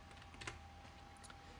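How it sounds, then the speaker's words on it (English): Typing on a computer keyboard at a desk, faint soft key clicks scattered irregularly, a small cluster near the middle, over a steady quiet room hum with no talking. "And by clicking anywhere in the composition window, we can start typing."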